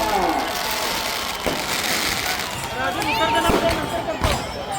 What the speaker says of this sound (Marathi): जल्लोष फटाक्यांचा.